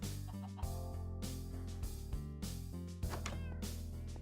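A cat in the Minecraft video game meows repeatedly in a steady series of clear, fairly close calls, set over continuous game music.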